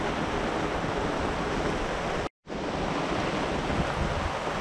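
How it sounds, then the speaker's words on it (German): Wind and heavy rain hit a sailboat at anchor near Zihuatanejo as a hurricane approaches, making a dense, roaring wash of noise. It cuts out abruptly for a moment, then resumes just as strong. "Jetzt frischt der Wind ein bisschen auf und es schüttet ein wenig mehr."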